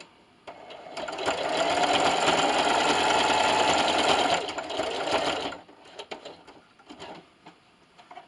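A home sewing machine topstitches a self-binding receiving blanket in one fast, steady whirring run of a few seconds, then stops, followed by quieter clicks and handling as the presser foot is raised and the fabric is turned.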